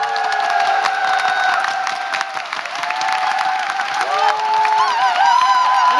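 A lecture audience bursts into loud, sustained applause at the end of a talk, a dense wash of clapping with some cheering and whoops.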